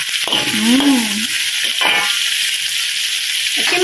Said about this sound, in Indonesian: Okey, kita masukkan bahan yang kita nak tumis tadi.